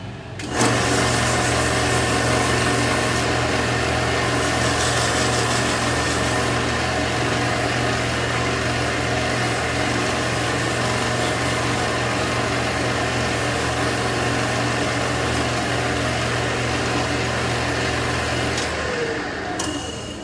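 Steady, continuous machine whine with a low hum runs unbroken for about nineteen seconds, a power sander working close by on a wooden predator call, then stops.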